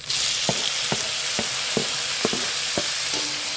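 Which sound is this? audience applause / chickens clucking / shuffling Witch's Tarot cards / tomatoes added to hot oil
tomatoes added to hot oil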